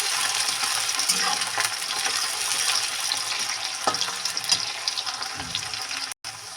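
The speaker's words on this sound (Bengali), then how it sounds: "পেঁয়াজটাও ভালো করে ভেজে নেবো।" Onion frying in oil in a pan for a duck meat curry gives a steady, moderately loud hiss and crackle, broken by a few soft knocks of stirring and a brief dropout near the end, with no voices.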